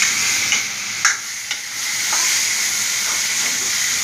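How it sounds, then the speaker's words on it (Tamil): Tomatoes with salt sautéing over a high flame for rasam, a loud, steady hissing sizzle with a few spoon taps and scrapes in the first half and no talk. "உப்பு சேர்த்தா சீக்கிரம் வதங்கிடும் தக்காளி. கொஞ்சம் ஹை ஃப்ளேமில் வச்சுங்க."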